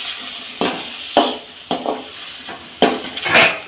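Brain fry spiced with chili and coriander powder is stirred in a pan, metal spoon scraping and clanking against the pot in irregular bursts over a soft sizzle, close and fairly loud.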